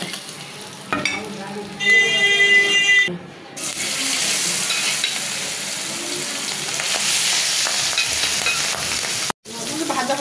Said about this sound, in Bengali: এবার আমি সবগুলো মাছ ভেজে দিচ্ছি